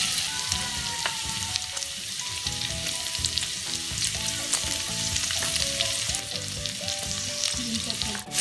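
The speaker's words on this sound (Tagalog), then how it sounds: "So, gigisa na natin yung ating sibuyas at saka bawang." Onion and garlic sautéing in hot oil for a Filipino vegetable coconut stew, a dense close crackling sizzle that runs continuously, with light stirring and music playing over it.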